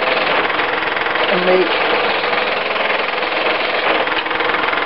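A big gouge cutting down a large knot on a wood-turning lathe, a loud continuous rough grinding rumble that holds steady for several seconds, with a voice speaking briefly over it.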